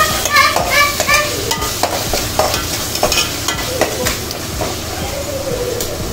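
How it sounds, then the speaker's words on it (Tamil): Onion and tomato sauté with salt in a pan for a boiled egg gravy, giving a loud, close sizzle broken by irregular utensil scrapes and clacks as the mixture is stirred. "நான் உப்பு போட்டு நல்லா கிண்டி விட்டுருவோம்"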